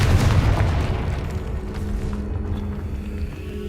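Fiery blast from the Confringo spell in the Hogwarts Legacy video game, a loud deep boom at the start that rolls on as a sustained rumbling roar for several seconds.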